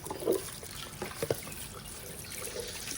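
Tap water runs and splashes in a sink as children wash their hands, a faint continuous trickle with a few soft splashes and drips, heard at moderate distance.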